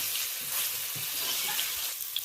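Mango pieces and dried red chillies fry in a hot pan with a steady, close sizzle, broken by soft stirring scrapes throughout, with no voices.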